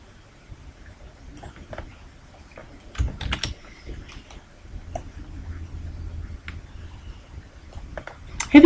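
Repeated presses of Ctrl D on a computer keyboard while duplicating shapes in Microsoft Visio 2010: a scatter of light, close key taps and clicks against a soft background hum, with no talking.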